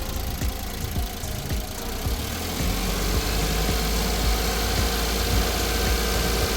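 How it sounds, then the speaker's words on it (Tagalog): A Suzuki DA17V engine runs steadily with a continuous low, slightly knocking hum and rhythmic ticking, sounding like an idle or a mild rev, heard close with no voices. "i-check natin ngayon yung makina ha. Halika, natin siya rito, i-revolution natin ha."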